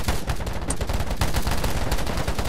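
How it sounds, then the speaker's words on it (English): Rapid gunfire from the DayZ video game, dense overlapping bursts like automatic weapons firing continuously, loud and close throughout with no voices over it. "But I can't hear anything over the gunshots."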